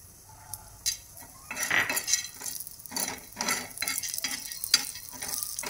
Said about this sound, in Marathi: हरभऱ्याच्या डाळीचा कलर बदलूपर्यंत भाजत राहायचं